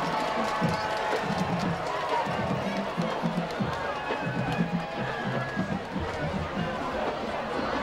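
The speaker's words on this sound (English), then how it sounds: "as student section cheering here" Student section crowd at a high school football game between Dutchtown and Destrehan, a steady roar of cheering and shouting voices filling the air, with a stadium announcer talking over it throughout.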